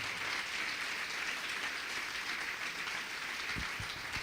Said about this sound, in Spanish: Le vamos a regalar una ofrenda de palmas al Dios de la gloria.